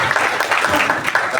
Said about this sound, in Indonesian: Tepuk tangan dulu ya.